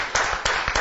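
A crowd applauds with dense, steady clapping.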